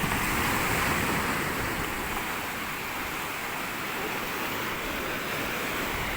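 Pacific Ocean surf washing onto the shore in a continuous loud roar of breaking waves, steady throughout with no voices.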